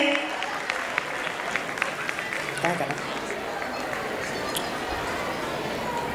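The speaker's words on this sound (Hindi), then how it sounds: "जोरदार तालियां कोमल के लिए" Crowd applause at a school annual function, broad clapping spread across the room, mixed with crowd chatter and an announcer's voice.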